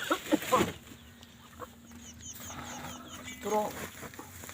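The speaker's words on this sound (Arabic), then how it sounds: "ده الطيور يا جماعه" Chickens cluck in a coop set up for brooding chickens and ducks, a few close, sharp clucks at the start, then quieter scattered calls over a low hum.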